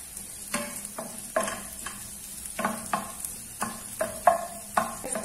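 Garlic and ginger fry in hot oil, making a soft sizzle under regular spatula stirring strokes that come about every half second, close and fairly quiet, with no one speaking.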